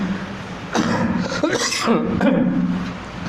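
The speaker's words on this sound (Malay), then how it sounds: "Saya batuk" A person coughs a few times in quick, harsh bursts, close up, amid a little throat noise.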